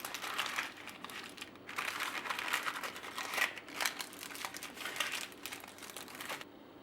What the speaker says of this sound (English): I'm going to be fancy and wrap them in parchment paper.